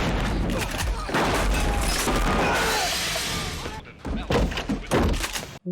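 Gunfire from the 1997 film L.A. Confidential sounds as a dense, loud burst of shots and impacts that runs almost continuously for about four seconds, then drops to a few scattered bangs, with voices talking over parts of it.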